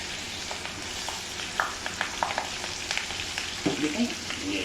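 Tomato and green chili sizzling in hot oil for a dhaba-style moong dal tadka, a steady frying hiss broken by scattered sharp pops and spatters, close and moderately loud, with no talking.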